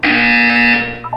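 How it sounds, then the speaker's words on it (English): Loud electronic buzzer from the Portal 2 video game, a harsh steady tone lasting under a second that then cuts off into a brief falling chime. "When you hear the buzzer, look up at the ceiling."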